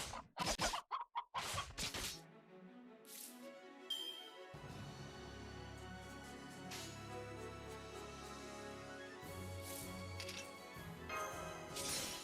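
Chickens clucking in the Fate/Grand Order game: a few sharp bursts at the start, then a busy layer of clucks over game music and effects.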